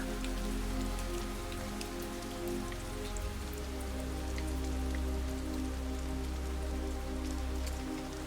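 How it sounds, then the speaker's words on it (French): Steady rain patters on a surface with dense, scattered drops, continuous and fairly close, with soft music tones sustained underneath throughout. "le son de la pluie"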